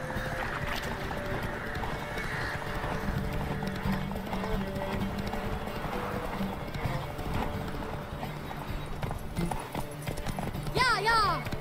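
A horse galloping in The Witcher 3, with rhythmic clip-clop hoofbeats running steadily under game music, ending in a whinny near the close, while a voice talks over it.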